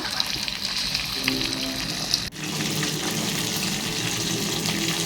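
Sankara fish slipped into hot oil for a crisp South Indian fish fry, with a continuous bubbling sizzle that breaks off briefly and then resumes just as strongly, close by.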